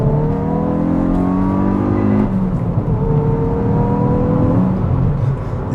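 A 2021 Hyundai i20 N accelerates hard at full throttle, the engine note rising steadily from inside the car, then a gear change and another loud climbing pull.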